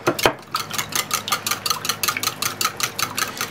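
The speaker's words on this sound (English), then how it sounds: "I'm going to whisk this up." A whisk beating egg, oil and vanilla in a bowl for morning glory muffins, giving a fast, steady run of close clinking scrapes against the bowl, about four strokes a second, with no talking.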